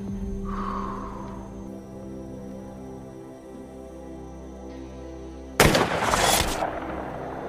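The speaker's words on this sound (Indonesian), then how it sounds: "kakek tua ini berhasil melakukan headshot mengakhiri sepak terjang dari Tanner, spesialis perampok bank." A gunshot fires as a headshot during a bank-robbery film scene. After several seconds of quiet, low film soundtrack, a single loud, sharp blast bursts out near the end and rings briefly.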